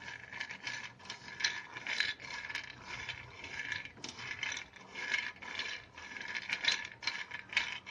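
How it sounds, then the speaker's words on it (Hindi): Ingredients for festival sweets and snacks dry-roasted in a pan with constant stirring, giving a quiet, rhythmic, ratcheting scrape that repeats steadily against the pan, with no talk. "अब देखिएगा मैं भून रही हूँ इसको, चलाते रहना है इसको"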